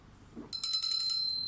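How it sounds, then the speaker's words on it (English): A small golden bell rings once, a bright sustained ding that starts sharply and rings out clearly against near silence. "This is a bell. It is golden in color"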